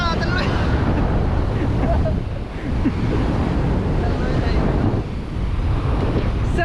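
Wind blows steadily across a microphone at a Philippine seaside spot where the water looks chocolate-brown, its loud broadband rush mixed with rolling surf and dipping briefly between gusts.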